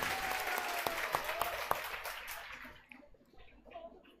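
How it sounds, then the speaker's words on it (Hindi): Students in a coaching class in Patna clap loudly together for a classmate's police selection. The applause is dense at first, then tapers off and fades out after a few seconds into quieter room noise. "एक बार इनके सिलेक्शन के लिए जोर से ताली"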